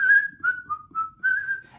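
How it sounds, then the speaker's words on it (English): A clear, melodic whistle at mid pitch, a few sustained notes rising and dipping in short phrases, close and alone without talk. "Okay, the whistle."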